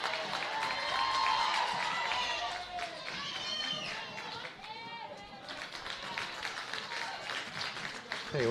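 A building crowd at a women's football grand final, steady outdoor murmur of chatter with scattered claps and cheers, distant whistles and shouts, with commentary-like talk layered over it.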